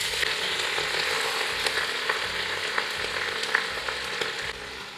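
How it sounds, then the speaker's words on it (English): Friarielli frying in hot oil with garlic and chili, a loud, dense, continuous sizzle with faint crackles, easing slightly at the very end. "Once the oil is fragrant and the garlic is slightly golden, let's add the friarielli, which I have already trimmed and washed."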